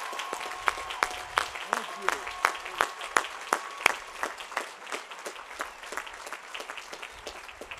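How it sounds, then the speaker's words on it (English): A few people clap sparsely and unevenly at a university commencement ceremony after faculty and staff are asked to stand. The claps are spaced and distinct rather than a full ovation, and faint room noise and a hint of voices sit underneath. "let's give them a well-deserved round of applause"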